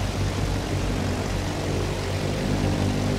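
A propeller-driven bomber roars overhead in the Battlefield 1 Empire's Edge Conquest match, a loud, steady, engine drone that fills the whole stretch with no voices over it.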